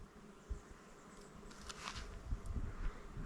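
Bees buzz faintly near a lake, a soft wavering drone that swells and fades over quiet outdoor background with light rustling.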